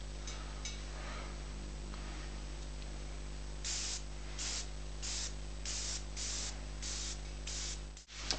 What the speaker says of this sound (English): Just start spraying. Really build up the contrast with this.